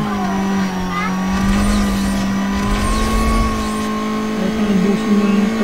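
A racing car engine in Need for Speed Most Wanted drones at a high steady pitch, revving and shifting slightly as the car speeds along, with faint tire noise mixed in throughout.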